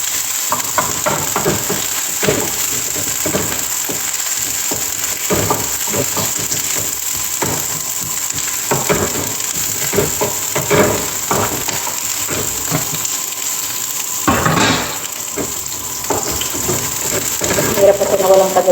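Onions frying in a hot pan give a steady sizzle, with scattered clinks of a utensil stirring and brief splashy bursts over it, fairly close and moderately loud throughout.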